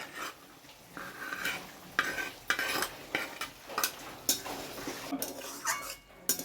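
Steamed taro stems are stirred into a fried spice masala in a pan, giving irregular bursts of spoon scraping and clattering against metal over a soft background sizzle, close and with no voices.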